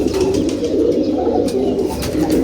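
A racing pigeon coos loudly and close by, a low continuous throaty burbling that fills the short stretch with no talk over it.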